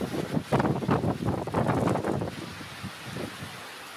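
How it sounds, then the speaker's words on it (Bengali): Gusty wind roars in surges during a Kalbaishakhi storm with rain, loud and turbulent for the first few seconds before easing into a softer rush. "জেলাতে ইতিমধ্যে বৃষ্টি চলছে"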